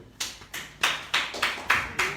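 A small audience at a student award event claps in slow, separated rhythmic bursts, about seven distinct beats in a row, each one sharp and then decaying, with faint room noise between them.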